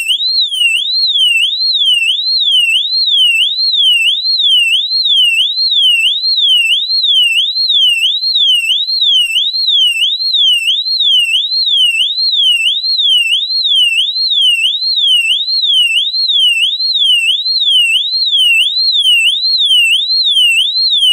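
An Amseco FSL1-1 fire alarm strobe whoops in a steady, piercing electronic warble, each rising-and-falling cycle repeating evenly and loudly for over twenty seconds, with no voices.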